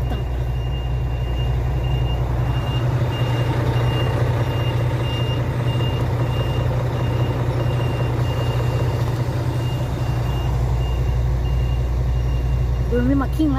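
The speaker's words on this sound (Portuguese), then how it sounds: "Encheu de caminhão aqui até a tampa." Trucks crowd and maneuver in a packed stopping area in northeastern Brazil. Engines idle in a loud, steady low rumble, and a reversing alarm beeps repeatedly throughout.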